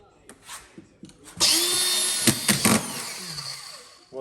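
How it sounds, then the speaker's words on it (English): A collated screwdriver drives drywall screws into plasterboard, a sustained high whine from the motor after a few light knocks, with short surges as screws seat. "So I'm using a collated screwdriver here just because it's easier"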